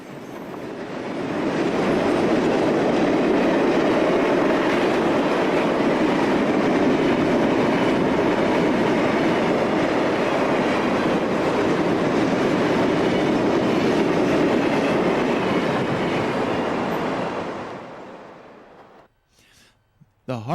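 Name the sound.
Conrail eastbound intermodal freight train passing through Oak Harbor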